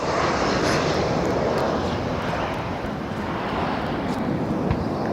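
An airliner arriving on runway 24R at Barcelona airport makes a loud, broad jet roar that holds steady for the whole stretch, with some wind buffeting the microphone and no speech.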